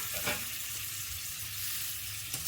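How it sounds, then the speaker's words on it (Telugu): Boiled eggs sizzle steadily in hot masala for a dhaba-style Afghani egg curry, with a soft stir near the start and a light scrape near the end. "ఇవి స్లోగా అటు ఇటు తిప్పుతూ మెల్లగా ఫ్రై చేసుకోండి"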